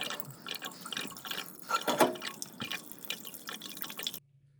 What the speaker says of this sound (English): The next step is to drain the small tank utilizing the valve on the left-hand side of the unit.